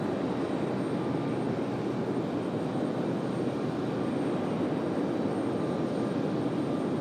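A Breeze Airways airliner taxis at Raleigh-Durham airport, its steady jet engine whine and broad rumble holding even and fairly close throughout, with no voices.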